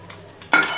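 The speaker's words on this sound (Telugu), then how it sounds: "ఆన్ చేసి ప్యాన్ పెట్టుకోవాలి" A metal pan set down on a kitchen stove gives one sharp clank followed by a short ring, heard alone in a quiet kitchen.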